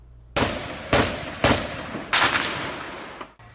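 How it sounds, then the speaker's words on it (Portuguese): Four loud, sharp gunshots crack out at uneven intervals in the Penha neighborhood of Vitória, Brazil, each trailing into a long echoing rumble, with no voices. "Os tiros foram disparados logo depois da prisão de traficantes do bairro da Penha, em Vitória."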